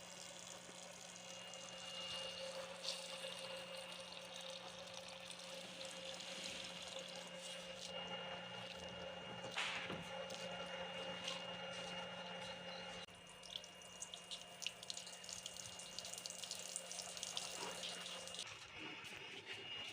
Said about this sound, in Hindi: मूंगरों को हमने अच्छी तरह से वॉश कर लिया है